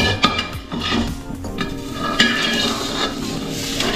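Margarine melts and sizzles in a frying pan while a utensil scrapes and taps against the pan in irregular strokes. A steady frying hiss sits underneath, close and fairly loud.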